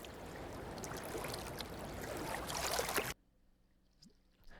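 Rushing water from a waterfall just outside a European capital city, a steady broad wash that cuts off abruptly, leaving faint quiet ambience.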